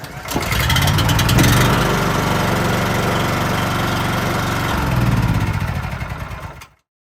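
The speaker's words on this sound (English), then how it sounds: "You want to start the motor." A small gas engine on a 1250-gallon brine maker pulls into life and settles into a loud, steady close-up idle with a slight rise in revs near the end, then cuts off abruptly.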